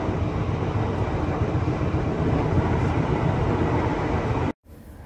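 Crowded KRL commuter train at rush hour heard from inside a carriage: a steady, loud broadband rumble with faint rail clatter runs throughout, then cuts out abruptly near the end to a quieter hum.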